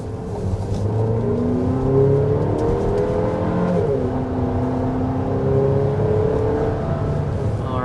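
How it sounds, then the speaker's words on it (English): A 2026 GMC Acadia Denali Ultimate under hard acceleration, engine and transmission whine climbing steadily in pitch through gear changes, heard from inside the cabin with constant road noise and no talk. "we need to go ahead and start with a hard acceleration"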